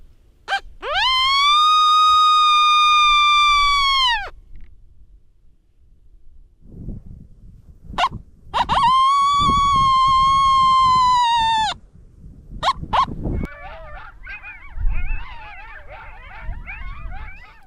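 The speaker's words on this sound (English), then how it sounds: "Now I'm playing the Coyote Serenade on the dog catcher call" Coyote howls from an electronic dog catcher predator call, played outdoors on a coyote hunt: two long, loud, wavering electronic howls with a short yip between, then a cluster of distant replying yips and howls.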